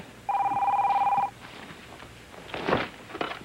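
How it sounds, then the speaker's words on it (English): An old telephone bell rings once in a single steady electronic burst lasting about a second, close and clear, followed by faint rustling and movement in a quiet room. "Oh, let me get the phone here."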